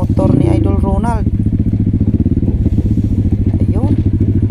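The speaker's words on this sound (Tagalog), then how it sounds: "halos hindi na gumulong yung gulong sa motor ni Idol Ronald" A motorcycle descends a steep, rough downhill dirt trail with its engine droning loudly and steadily near the microphone, while someone talks over it.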